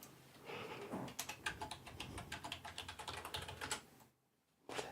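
Fast keystrokes on a computer keyboard, close and crisp, tapping in a steady run before a brief silence and a final resumed keystroke.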